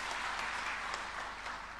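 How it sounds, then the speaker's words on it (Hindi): Faint, distant applause fills an auditorium in Bhopal during a government rural development department event, a soft, uniform patter of many hands clapping with no voices over it. "ताली बजाइए इस बात के लिए।"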